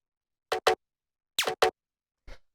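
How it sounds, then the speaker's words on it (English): A synthesized zap paired with a sampled bongo, triggered together from a drum rack in a minimal house percussion groove: short, sharp hits in pairs, one with a downward sweeping pitch, followed by a fainter tail. "the bongo is just a sample. The zap is actually made using a synth."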